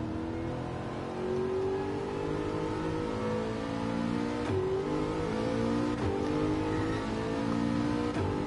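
An Aston Martin in Gran Turismo 7 at Laguna Seca revs steadily, its engine note climbing and dropping through several gear changes, loud and continuous with no talk.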